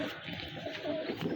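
A pigeon held in the hand gives a soft, low coo, close and brief against quiet background noise.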